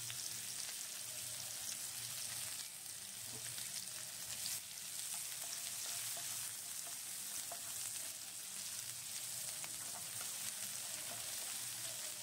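Chopped onion frying in mustard oil and ghee for an egg tadka, a steady, even sizzle with soft crackling that runs unbroken and fairly close the whole time, with no voices.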